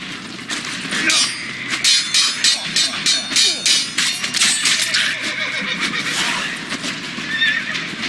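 Several horses whinny and snort repeatedly in Witcher 3: Blood and Wine, loud and close, with hooves clopping beneath in a busy, continuous stretch.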